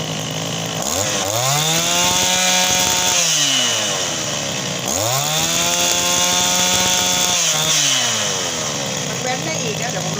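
A small used Honda two-stroke brush cutter engine runs loudly up close, revving up and down in repeated surges with a rough, buzzing drone.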